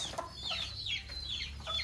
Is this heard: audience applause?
no